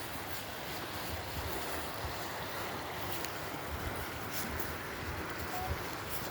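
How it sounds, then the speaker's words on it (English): Water flowing at Wishing Well Waterfalls, a constant broadband rush with a faint low rumble, steady and moderately distant, with no talking. "Some water."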